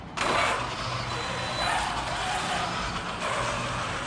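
A Losi Super Baja Rey RC truck runs outdoors, bound to a Spectrum radio, with a steady, loud electric motor whine and a rough rolling roar across the whole stretch.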